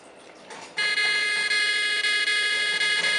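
A Makey Makey patient sensor alarm cuts in abruptly after a brief quieter lead-in, then holds a loud, steady, high-pitched electronic buzzing tone, close and continuous to the end.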